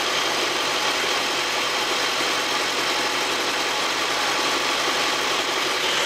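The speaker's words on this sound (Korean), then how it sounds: "엔진 룸 열었고요." A Hyundai Grandeur HG hybrid engine idles steadily with the hood open, a constant close, even hum with no breaks and no talk.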